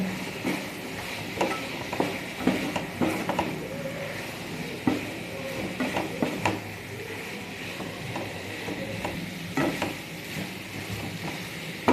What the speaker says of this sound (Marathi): पुन्हा एकदा 2 मिनटं फ्राय करून घ्यायचं आपल्याला तेलामध्ये मसाले सगळे।